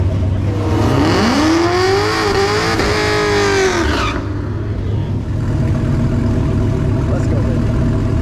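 Race cars roar loud and close at a 10.0 index roll race at a Street Car Takeover event in Bowling Green, engines screaming upward in pitch for about four seconds before the noise drops to a duller rumble.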